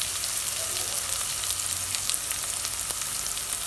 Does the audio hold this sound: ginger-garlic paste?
yes